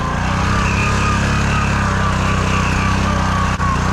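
A Honda Fourtrax 300 6x6 ATV engine running steadily at high load on a hill, a loud continuous drone close by with no pause.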